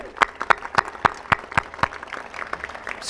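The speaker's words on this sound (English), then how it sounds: "let's give that a round of applause." A few separate sharp claps ring out at a steady, uneven pace rather than a full round of applause, at a police facility dedication ceremony, close and fairly loud with a faint hum behind.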